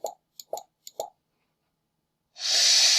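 Three short pop effects from a Scratch sound library play in quick succession, each brief and clean, followed by a sustained loud hissy burst near the end.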